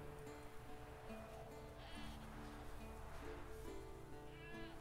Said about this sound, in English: A goat. Little bleater.